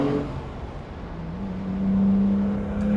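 A 1992 BMW 850 with a V12 and six-speed manual pulls away in traffic, its engine note rising as it accelerates, heard loud and close from inside the car.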